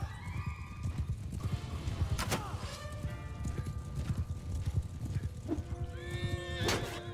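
Hooves clip-clop at a gallop and a horse whinnies sharply twice in Mount & Blade II: Bannerlord, with battle noise around it and someone talking throughout.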